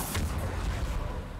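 A Bombarda explosion spell in Hogwarts Legacy goes off as a single deep, rumbling blast that fades over about a second, loud and close with no voices.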